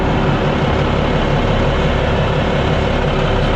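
Twin Volvo diesel engines running inside the engine room of a 2000 Pursuit 3400 Fisherman boat, a loud, close, steady low rumble that fills the space without pause.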